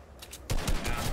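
Rapid bursts of gunfire in Fortnite, a quiet lull then a dense run of loud, close shots that keeps going to the end.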